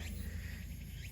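Insects chirp continuously outdoors in a hilltop park in Sendai, Japan, a faint steady trill layered over a low ambient hum, with no voices.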